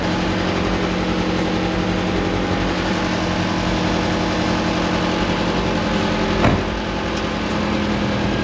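A Ford Fox body car engine runs at a steady, loud idle, a continuous low rumble with one brief louder bump near the end and no talking.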